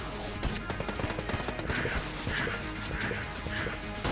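Rapid volleys from the Gatling gun boss in Enter the Gungeon, a steady rhythmic rattle of shots with small regular pulses, loud and close with no talking.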